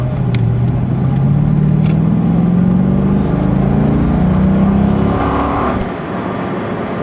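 A 2007 Chevrolet Corvette accelerates hard to around 50 mph, its engine note climbing steadily through rising revs for several seconds before easing off to a quieter cruise near the end; no voices over it.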